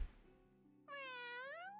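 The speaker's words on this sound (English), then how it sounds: "Cute cat." A cat in the video game Sword of Convallaria gives one clear, drawn-out meow with a rising then falling pitch, heard alone after a soft lead-in.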